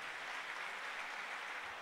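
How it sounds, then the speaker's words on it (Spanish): A church congregation applauds for the Lord during a Spanish-language service, a steady, dense wash of clapping that holds at an even level throughout, with no talking over it. "Vamos a darle un aplauso al Señor fuerte y oramos"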